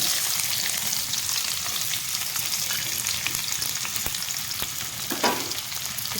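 Sliced onions fry in mustard oil in a kadai, making a dense, steady sizzle throughout, with a few faint clicks and one brief stirring scrape near the end and no voices.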